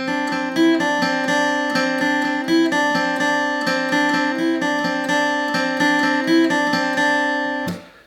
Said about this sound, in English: what that guitar is playing sounds like this.